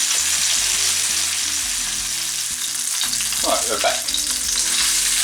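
Pieces of chicken adobo fry in a hot pan, giving a steady close sizzle with some scraping and stirring as they are turned, while a voice briefly speaks.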